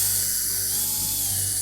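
A powered screwdriver backs number 2 Phillips screws out of the top support piece on a Samsung dryer, a brief close mechanical whir with ratcheting clicks over steady background hiss, no voices.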